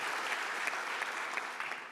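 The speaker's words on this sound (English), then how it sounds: "Can we have a round of applause?" Audience applause at EuroPython 2025 lightning talks, a steady dense crowd clapping alone for two seconds as the next speaker comes up.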